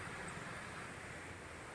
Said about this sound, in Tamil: இயற்கையாக விழும் இந்த அருவியின் இரைச்சல்